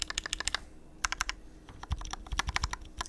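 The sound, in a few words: typing on Kbdfans Vulcan MAJA mechanical keyboard build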